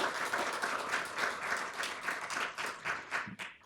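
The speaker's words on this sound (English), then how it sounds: "I would ask you right now if you would please give them a round of applause for taking out their time to be here with us today." An audience at an academic talk gives a round of applause, a dense, even wash of many hands clapping at moderate distance, steady throughout and tapering slightly at the close.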